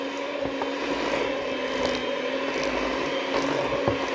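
Electric mixer whirring steadily through banana bread batter, a continuous close motor drone with faint rattling from the beaters against the bowl.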